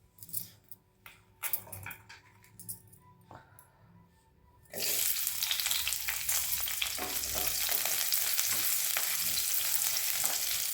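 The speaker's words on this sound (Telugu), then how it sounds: "పెనంలో మరొక 2 స్పూన్ల ఆయిల్ వేసుకొని ఉల్లిపాయ, పచ్చిమిరపకాయ వేసి ఫస్ట్ వేయించుకోవాలండి" Onions and green chillies hit hot oil in a pan: scattered clinks and handling noises first, then an abrupt loud burst of frying that settles into a continuous close sizzle with stirring, no speech.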